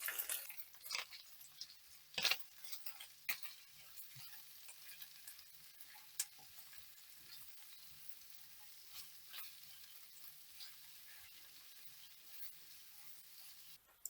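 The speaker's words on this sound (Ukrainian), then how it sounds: "Небагато, зовсім небагато викладаю цибулю. Та перемішую." A small amount of chopped onion frying in a little oil for Ukrainian palyushki, heard as a soft, quiet sizzle with occasional light clinks and scrapes of stirring.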